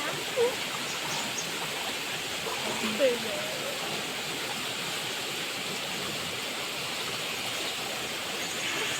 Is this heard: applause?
no